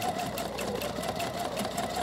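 Domestic sewing machine running steadily for free motion embroidery with metallic thread, a continuous fast whirring hum held at even loudness throughout with no talk.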